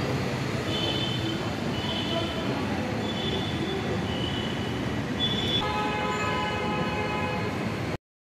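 A Bangalore metro train running between stations, with steady loud rumble of wheels on rails, thin squealing tones and a brief horn-like whine near the end.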